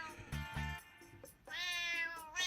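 A cat meows several times, first two short close calls, then a longer, louder drawn-out meow near the end, with quiet gaps between.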